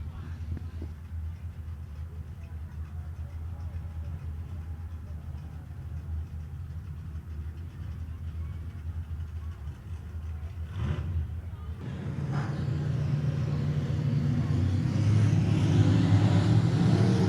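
Limited-class race cars rumble and idle at Heart O' Texas Speedway, a steady distant engine drone under an announcer's voice that swells into louder revving toward the end.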